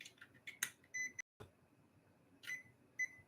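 A kitchen-style timer being set to 30 minutes gives a few short, bright electronic beeps, spaced unevenly and fairly close, in an otherwise quiet room with no talking.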